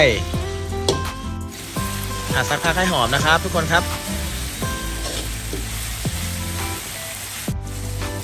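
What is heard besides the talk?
chili and garlic frying in a pan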